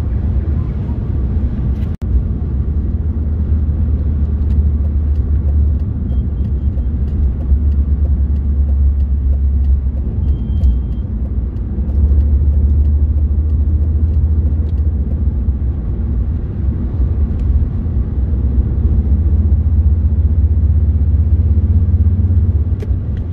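Cabin sound of a BMW 316i E46 on the road: a constant deep engine and road rumble from inside the car, steady and loud throughout, with a brief click near the start and no talking.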